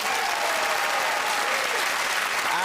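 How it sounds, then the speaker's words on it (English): Studio audience applause on a Christmas special of a British comedy panel show, a steady dense burst of clapping at full volume throughout, with no voices. "clap for Joe Brand"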